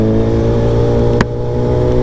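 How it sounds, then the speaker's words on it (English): Heavy road traffic heard from a Suzuki Hayabusa motorcycle ride, a loud steady engine drone with a brief sharp burst midway and no talk. "Oh my God, there's so much traffic."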